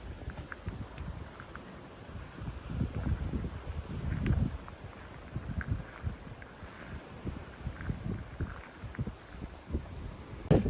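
Wind gusting across the open coast of the Isle of Skye at a remote spot by the sea, a steady low rumble buffeting the microphone with occasional stronger gusts and no voices.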